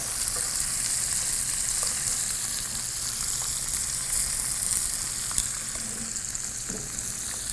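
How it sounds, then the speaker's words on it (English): Steady close sizzling of stuffed braciole steaks searing in a pan, an even frying hiss with small pops and light stirring and no voices. "so I can sear these"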